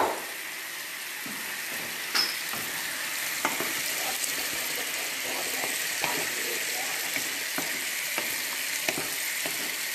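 Marinated food fries in a pan, cooked on both sides, giving a steady broad sizzle with occasional soft clicks and stirs. It runs close and even throughout, with no talk over it.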